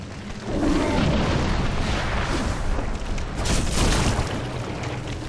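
A bomb in the game Dark Souls explodes in a loud, sustained roaring blast that fills the clip with dense rumbling noise and never fades away.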